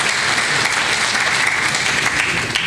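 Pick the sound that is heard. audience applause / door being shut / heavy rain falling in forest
audience applause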